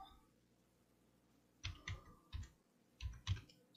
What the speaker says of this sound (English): we're going to type in workshop